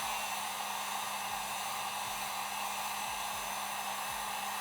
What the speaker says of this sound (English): Now take your heat gun, turn it to the second setting, that'll be the hottest.